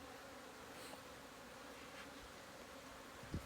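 Bees crawl over a beehive frame as it is handled, giving a low, steady buzzing hum close up, with a soft knock near the end.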